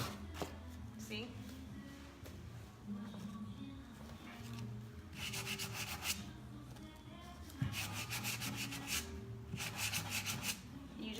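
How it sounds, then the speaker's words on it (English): Hand sanding a decoupage piece with fine 330 grit sandpaper, repeated scratchy rubbing strokes in bursts, close and soft, with a person talking throughout. "you're doing it with fine sandpaper, not a high grit. This is 330 grit."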